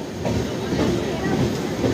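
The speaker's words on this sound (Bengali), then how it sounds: "ট্রেন ছেড়ে দিয়ে গন্তব্যের দিকে এগোচ্ছে" The 12822 Dhauli Express from Puri to Howrah rolls along with a steady low rumble and rhythmic wheel clatter, heard from inside the moving train.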